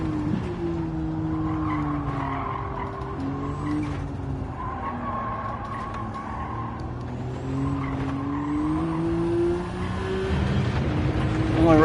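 Loud, steady engine roar of racing cars in the video game Gran Turismo 7, with shifting pitch as they rev and pass, tires squealing now and then.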